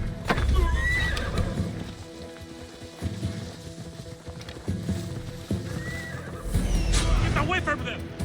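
Horses of mounted guards in Assassin's Creed Odyssey clip-clop and neigh nearby, hooves thudding in bursts with whinnies over rain, while voices talk throughout.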